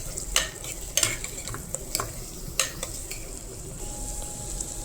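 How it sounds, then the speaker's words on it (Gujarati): Tomatoes being stirred in a frying pan, a soft background sizzle broken by sharp, irregular clicks and scrapes of a spoon against the pan, no speech. "તો તમે જોઈ શકો છો ટમેટાને સરખી રીતે મિક્સ કરી"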